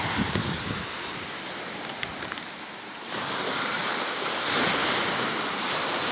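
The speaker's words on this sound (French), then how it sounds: "Le vent souffle encore un petit peu." Steady wind rushing at the shore with surf roaring underneath, buffeting the microphone and swelling louder midway.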